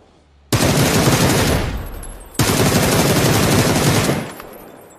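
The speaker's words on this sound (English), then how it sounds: "They're throwing grenades" Two long, loud bursts of rapid automatic gunfire with grenade blasts rattle through a shooter video game battle, close and overwhelming with no talk.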